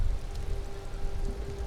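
Steady rain falls in a fishing village in the video game Disco Elysium, a dense, even hiss with a low rumbling undertone and no voices.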